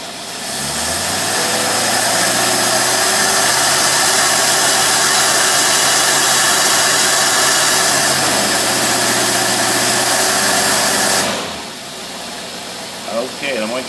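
An engine fitted with a Fredrick Carter single barrel carburetor runs under a small load, a loud steady drone with a slight pitch rise, holding for about eleven seconds before shutting down into quiet with faint voices.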